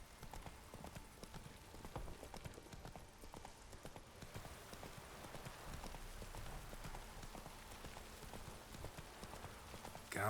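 Horse hooves clip-clop at a brisk, steady gallop in The Witcher 3 video game, a continuous rhythmic pounding over a light rain-like hiss, with no talk.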